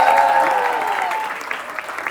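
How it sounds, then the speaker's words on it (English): A round of applause at a college festival, broad crowd clapping that fades over about two seconds with faint voices mixed in. "have a huge round of applause for them, please?"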